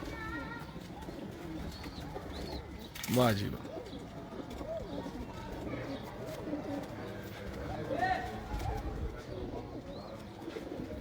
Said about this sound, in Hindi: ये कबूतर जो है हमने यहाँ पे छोड़ दिए